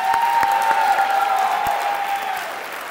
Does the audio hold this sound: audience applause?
yes